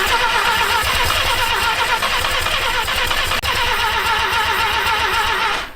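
An old rotary engine in an abandoned pickup truck cranks repeatedly in cold weather, a loud, rapid, rhythmic starter churn that keeps trying without catching, close and continuous.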